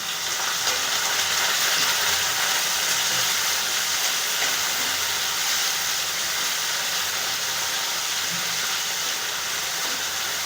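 Tomatoes softening in hot oil in a pan for a Marathi festive thali, a steady, close, continuous sizzle and hiss that holds evenly throughout with no talking.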